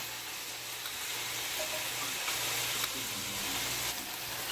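Chicken pieces tossed into a small pan of hot oil give a steady, dense sizzle that hisses continuously at close range, with faint clicks of stirring underneath and no voices.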